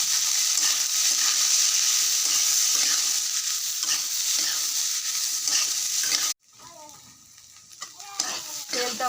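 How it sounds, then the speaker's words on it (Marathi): Corn kernels roasting in hot oil in a kadhai, with loud continuous sizzling and scraping stirs for several seconds, then a sudden drop to quieter scattered crackles and pops. "कढईमध्ये भाजणार आहे."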